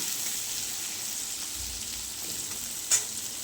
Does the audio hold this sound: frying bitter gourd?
yes